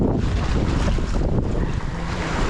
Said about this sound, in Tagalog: Ang lalaki ng alon ngayon.